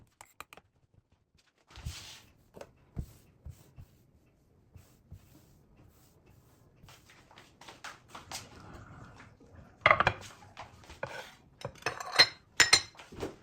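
Two small kitchen bowls meant for chutney and sauce are set out, giving sparse, faint clinks and light knocks that grow into a busier cluster of clatter near the end, with no talking.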